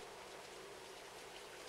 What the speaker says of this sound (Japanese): 雨やばいんだけど。